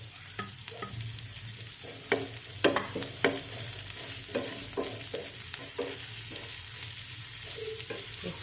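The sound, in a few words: ginger frying in a pan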